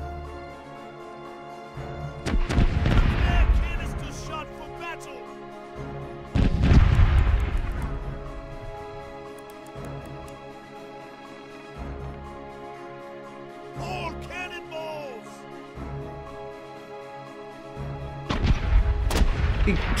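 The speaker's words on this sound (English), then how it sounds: "Oh, cannon reloading." Ship cannons fire in the pirate naval video game Corsairs Legacy, several heavy booming blasts spread out over time with rumbling tails, set against ambient game music and sea noise.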